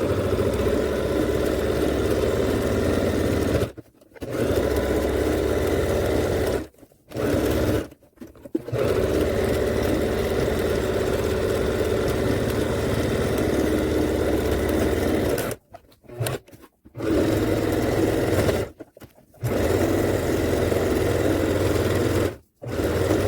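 A sewing machine zigzag stitching a quilt pillow case made from old clothing and a blanket, with loud, close, steady motor-driven stitching in long bursts separated by short pauses, and no talk.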